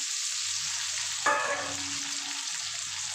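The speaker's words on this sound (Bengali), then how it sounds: "তেলটা গরম হলে সবার আগে আমি আলুগুলোকে ভেজে নেব দেখুন আলুগুলো দিয়ে দিলাম" Salted boiled potatoes drop into hot oil in a kadai, a loud dense hiss of frying with one sharp clatter of the pieces going in partway through.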